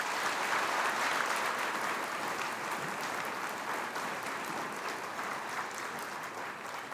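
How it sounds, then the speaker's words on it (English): Sustained crowd applause for graduates at a summer graduation ceremony, a dense, even wash of clapping from a large audience, somewhat distant and gradually tapering. "please help me give a nice round of applause to all of these well-deserving"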